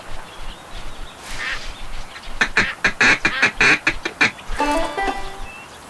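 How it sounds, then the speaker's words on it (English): Ducks quack in the Duck Dynasty video game, a rapid burst of about ten loud, close quacks in a quick rhythm after quieter ambience, followed by a softer call at the end. "Quack, quack. I think I hear them."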